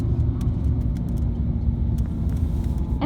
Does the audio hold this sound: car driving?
yes